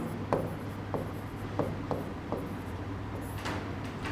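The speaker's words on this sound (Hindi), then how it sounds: "मैं लिख देता हूँ" A lecturer writes on a board, and the close marker or chalk makes a series of short scratchy strokes, about six light taps and scrapes spread over a low steady hum.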